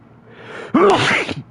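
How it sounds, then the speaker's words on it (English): A single loud sneeze bursts out after a brief sharp inhale. "Hold up, I gotta sneeze."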